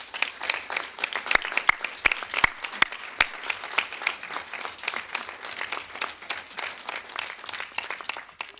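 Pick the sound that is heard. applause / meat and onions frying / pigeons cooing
applause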